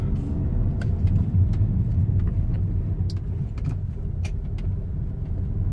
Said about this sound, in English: Driving the car.